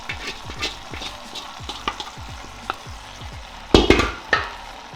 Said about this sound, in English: Our pan is nice and hot. I'm gonna go ahead and get the rest of our marinade that's in the bowl. Throw it on top.